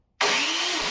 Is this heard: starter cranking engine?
yes